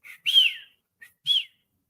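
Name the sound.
person whistling, imitating a father's whistle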